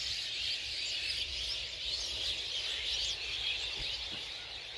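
Thousands of birds calling together over a field in Bangladesh form a dense, continuous chorus of overlapping chirps, steady and fairly distant throughout.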